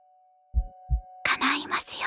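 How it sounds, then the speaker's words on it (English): Heartbeat soundtrack from the Dangers in My Heart anime, two deep, muffled low thumps in a row over a faint hum, followed by whispery talk. "Oh, the ASMR and this heartbeat soundtrack, right?"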